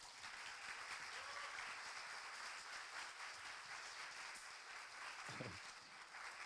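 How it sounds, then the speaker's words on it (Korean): Steady applause from a crowd fills the room, an even wash of many hands clapping at a moderate distance. "큰 박수로 맞이해 주시기 바랍니다"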